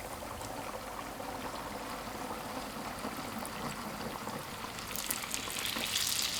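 Youtiao dough sticks deep-fry in hot oil, a steady dense bubbling hiss that swells louder near the end as more dough goes into the pot.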